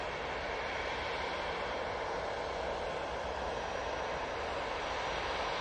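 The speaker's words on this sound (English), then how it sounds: "There's the Ryanair arrival" A Ryanair airliner arriving at Manchester Airport gives a faint, steady broadband jet roar from a distance, unbroken and without voices.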